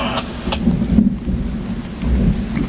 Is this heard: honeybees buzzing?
no